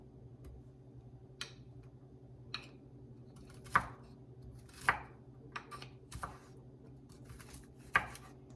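Knife chopping garlic for lasagna on a board, a handful of sharp, separate cuts spaced irregularly over a quiet steady room hum, with no voices.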